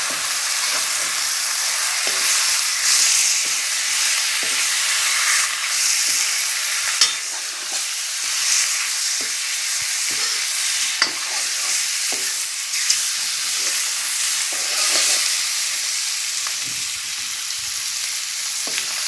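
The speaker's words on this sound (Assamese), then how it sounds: "তাৰপিছত এতিয়া মাংস ঢালি দিওঁ।" Chicken meat fries in a pan with spices, a loud continuous sizzle with repeated scraping stirs and no voices.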